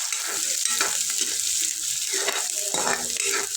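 Chopped onion frying in hot tempering oil for a Marathi-style eggplant dish, a constant close sizzle broken by several stirring scrapes in the pan.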